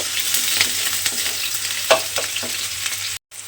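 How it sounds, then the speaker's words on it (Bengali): Onion paste frying and being stirred in hot oil, a steady close sizzle with repeated soft scraping strokes from the stirring, ending in a brief dropout. "পেঁয়াজ বাটাটা দিয়ে আমি তেলের মধ্যে একটু নাড়াচাড়া করে ভেজে নেব"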